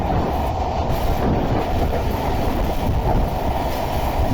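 A train rolls past close by, a steady loud rumble with faint rhythmic rattling of the carriages throughout.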